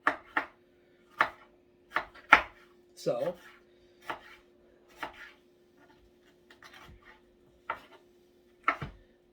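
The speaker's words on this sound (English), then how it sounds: "as we finish up chopping these last two peppers" Peppers chopped with a knife on a cutting board, about a dozen crisp, close knocks at an uneven pace with brief pauses, with a single word spoken near the start.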